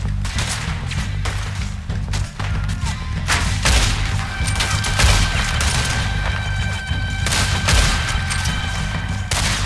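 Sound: gunfire in Red Dead Redemption 2 video game

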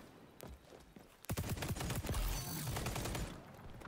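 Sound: ACR assault rifle gunfire in video game XDefiant

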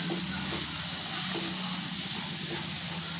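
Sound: stirring spices into onion kara kuzhambu in pan

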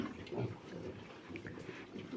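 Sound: pigs grunting

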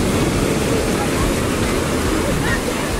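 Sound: strong ocean surf at Caleta beach, Acapulco

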